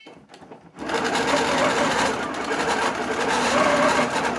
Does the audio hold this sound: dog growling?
no